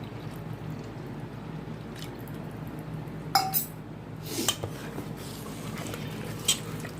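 A bowl of sour buttermilk is poured into dhokla batter and stirred in. A soft pour sits under steady room hiss, with a few sharp spoon-on-bowl clinks, nearby and fairly quiet.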